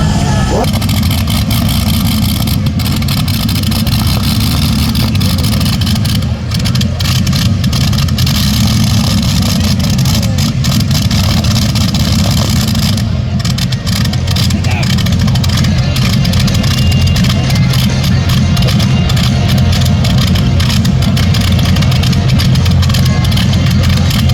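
Turbine-powered pulling tractor at a truck and tractor pull event, a continuous loud roaring engine with a steady whine sustained throughout, over a noisy outdoor crowd background and faint voices.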